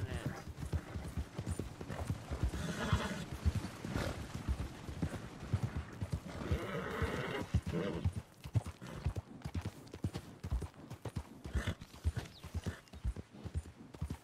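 Wild horses gallop in Red Dead Redemption 2, a dense, rumbling clip-clop of many hooves close by over the whole stretch, with a brief whinny and some faint talk mixed in.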